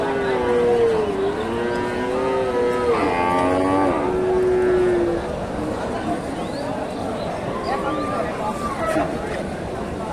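Friesian dairy cow lowing at a busy cattle market in Bogura, several drawn-out moos close by, with chatter and crowd babble continuing underneath.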